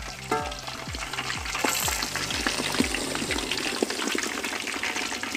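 A whole pig is deep-fried in hot oil over a strong flame, with a loud, constant sizzle and crackle of bubbling fat, close by, and a steady run of soft low thuds underneath.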